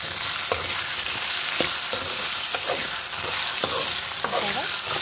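Potato and broad bean curry frying in a pan, a continuous sizzle broken by regular scraping strokes of a spoon stirring the mixture, close and fairly loud.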